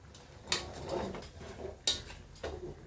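Chicken being stirred in a wok for Filipino tinola, with two sharp metal clinks of a utensil against the pan among soft scraping, close and moderately quiet, no talking.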